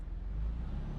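A Mercedes truck engine in the video game Euro Truck Simulator 2, a steady low droning rumble with constant road noise, moderately loud and unbroken for about a second, no voices.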